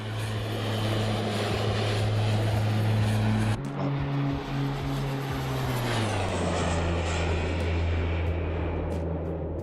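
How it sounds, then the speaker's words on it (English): A turboprop-converted Beech Bonanza in the MSFS 2024 flight simulator passes by, its steady loud drone of engine and propeller holding strong, then the pitch drops as it moves away. "I could listen to that flyby all day."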